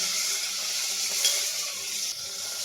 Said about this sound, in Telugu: పచ్చిమిర్చి అయితే చిట్టపట్టలాడుతుంది